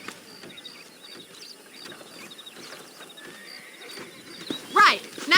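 Faint hooves clip-clopping beneath a quiet Red Dead Redemption 2 game soundscape, then a sharp horse whinny near the end, with voices nearby.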